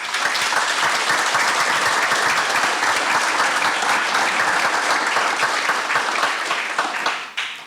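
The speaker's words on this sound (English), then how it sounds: "And you all deserve a round of applause for that." Loud, sustained audience applause fills a room at a Vision Health Month appreciation dinner, a dense unbroken wash of clapping that holds steady for about seven seconds before tapering off at the end.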